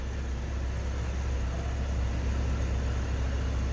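A 2012 Cadillac CTS 4 Performance Sport Wagon with a 3.6 liter engine idling smoothly, a steady low hum with an even, continuous tone heard close and without talk.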